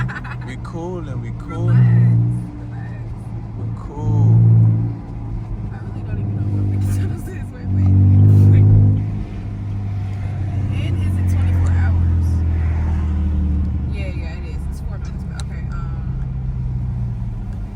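A straight-piped Chevrolet Camaro V6 revs loudly while driving through the city at night, with repeated rising engine surges and a steady exhaust drone in between.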